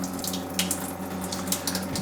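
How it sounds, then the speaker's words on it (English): Water runs steadily from the faucet of a tankless under-sink reverse osmosis system, a continuous close hiss and splash with a faint pump hum beneath, no voices. "once we turn the unit on and open the faucet up, we do need to let it run for at least 20 minutes"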